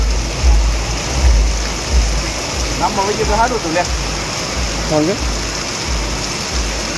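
Heavy rain pours steadily over Kadiyana village in Halvad taluka, a broad constant wash of falling water, while people talk briefly and a low rumble thumps through the background.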